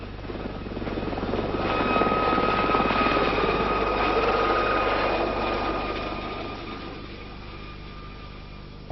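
A rescue helicopter flies past with a steady whirring rotor and engine roar that swells, holds and then slowly fades, with no talking.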